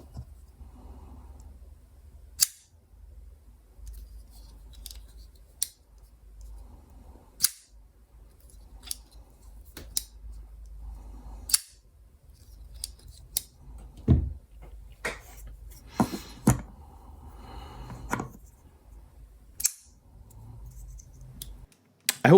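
Two CRKT Ken Onion folding pocket knives flick open and snap shut, giving sharp isolated clicks and snaps spaced a few seconds apart over a quiet background, close up with no talking.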